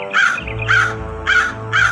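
Crow cawing four times in a steady rhythm, loud and close, harsh repeated calls with a low continuous hum underneath and no voices.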